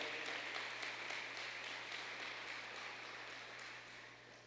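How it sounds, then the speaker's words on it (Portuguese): Church congregation applauding during an evening worship service, a steady wash of many hands clapping at even loudness, with a low constant hum beneath and gradually tapering toward the end. "Você pode aplaudir ao Senhor, querido?"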